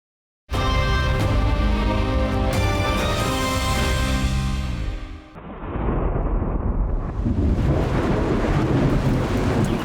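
A heavy monsoon storm over Kaziranga National Park: deep, rolling thunder swells loudly, then breaks off into a dense, continuous wash of pouring rain.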